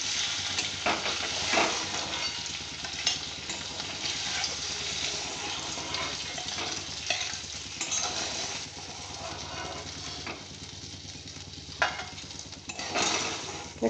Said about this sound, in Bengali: এটা এক পিঠটাই ভাজতে হবে, উল্টো দিকটা ভাজলে কুসুমটা সব বেরিয়ে যাবে।